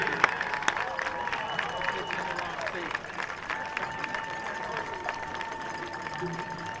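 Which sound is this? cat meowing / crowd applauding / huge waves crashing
crowd applauding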